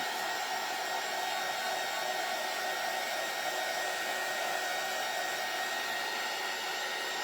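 A hair dryer blows on a craft bunny to dry it before sanding, a continuous even whirring rush with no change in level throughout.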